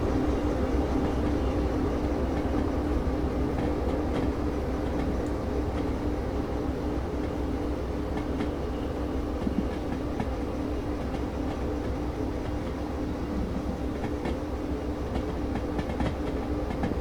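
A train in the Derail Valley railway game rolls steadily along the rails with a continuous low rumble and faint clickety-clack. No one speaks over the even, sustained sound.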